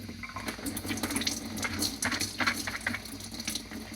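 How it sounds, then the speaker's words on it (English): Tinned lentils rinsed under a running kitchen tap, a steady wash of water splashing and trickling through them at moderate level without speech. "So I'll just keep washing it until the white layer of foam has gone."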